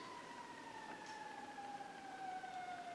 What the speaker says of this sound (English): siren somewhere down the street